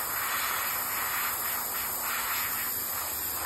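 An airbrush sprays top coat onto the wing of an Eduard B-25J model aircraft, giving a close, steady, even hiss that holds throughout without a break.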